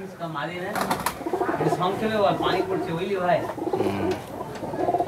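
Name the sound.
pigeon cooing in a loft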